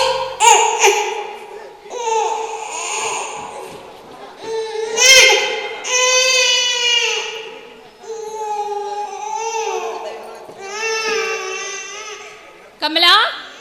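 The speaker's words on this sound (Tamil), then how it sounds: "குழந்தை அழுகிறத காதுல கேக்குதா இல்லையான்னு தெரியலையே." A baby cries in repeated wailing bursts of rising and falling pitch, loud and close, with a few short pauses between sobs, during a Tamil stage drama performance.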